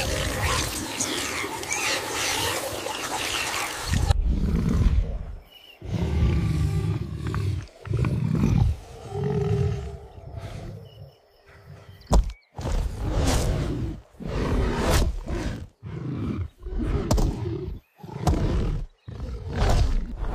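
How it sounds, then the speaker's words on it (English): Deep, rough roars and growls burst out in a series of loud, drawn-out calls separated by short pauses, sounding close and forceful. "the furious roars of apes, the guttural growl of the predator"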